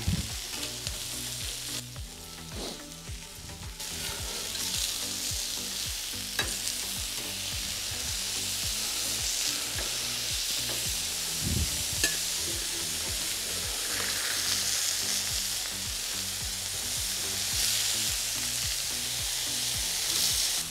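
Scallops, carrots and endives sizzling on a brazier plancha, a loud continuous frying hiss close by with scattered pops and scraping as the food is turned.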